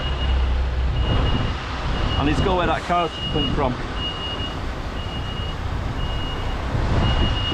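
Reversing beeps from a vehicle repeat at an even pace on a road with background traffic, under someone speaking close by.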